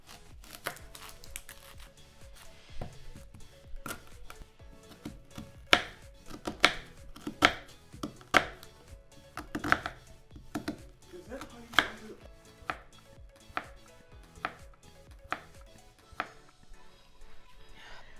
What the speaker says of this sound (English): I am also going to chop 1 onion as well as 2 cloves of garlic.